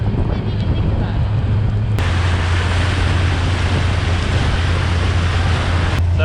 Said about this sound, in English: we're running the engine on varied speeds, like lower RPMs right now